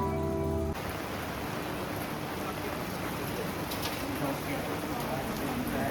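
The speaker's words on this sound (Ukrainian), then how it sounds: "А дощик все посилюється і посилюється." Rain falls on a street in Ljubljana as a steady, close hiss of drops on hard surfaces. It begins after a short moment of other sound and continues evenly to the end.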